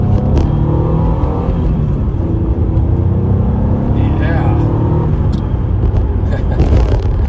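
A 1986 Renault Alpine GT Atmo on the road, its engine droning loud and steady with heavy low rumble and road noise throughout, while someone talks briefly over it.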